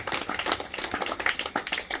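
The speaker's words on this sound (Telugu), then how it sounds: "కొత్త చప్పట్లు గట్టిగా వస్తాయి." An audience claps loudly in a dense, continuous burst of many hands, with no speech over it.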